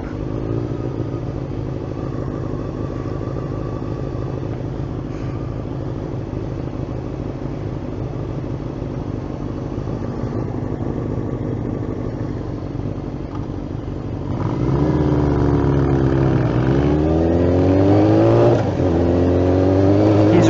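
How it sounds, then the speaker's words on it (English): A motorcycle riding along in low first gear, its engine note steady and fairly loud throughout, then rising and changing pitch in the last few seconds as it revs. "Riding in low first."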